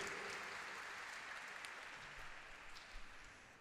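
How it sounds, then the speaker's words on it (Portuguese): Applause from the audience at a formal ceremonial session honoring a samba school's drum master and singer: steady, dense clapping that holds through, fading slightly toward the end, fairly quiet overall. "uma salva de palmas a todos eles"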